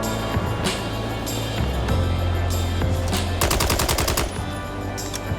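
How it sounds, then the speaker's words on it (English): Rapid gunfire from the video game Mindseye, with thin, airy automatic bursts crackling over a steady game soundtrack, most dense in a sustained volley near the end. "The guns, they sound like they're just air."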